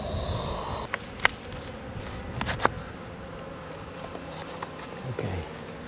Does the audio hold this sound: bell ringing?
no